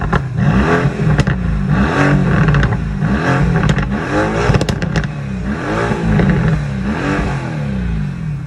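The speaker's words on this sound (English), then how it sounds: "the AMG GTR, it has a full titanium exhaust system," Mercedes-AMG GTR twin-turbo V8 with a full titanium exhaust, revving loud and close in repeated rising and falling pulls, with rasping crackles and pops between blips and no talking.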